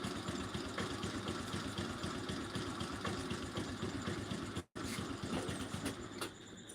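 A scooter engine idles close by after being started, a steady low putter with a fast pulsing beat that holds throughout, broken only by a brief dropout near the end.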